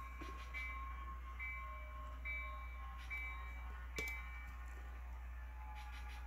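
Model train locomotive slowing on a small switching layout, a faint steady hum with soft tonal sound-effect notes and occasional clicks, no talk.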